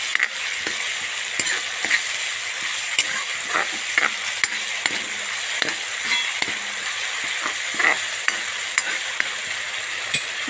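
Tomato gravy for a raw banana curry sizzles steadily in a frying pan while a utensil stirs and scrapes, with irregular sharp taps against the pan and no voices.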